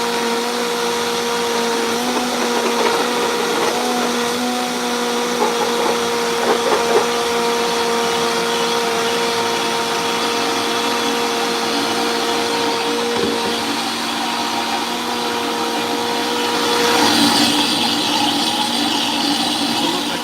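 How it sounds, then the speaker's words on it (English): Blender whirring steadily for a long stretch while blending garlic down, a loud continuous motor drone with little change in pitch and a slight surge near the end. "let's give it like 30 seconds to really blend that garlic down"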